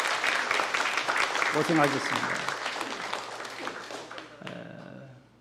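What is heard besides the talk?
church congregation applause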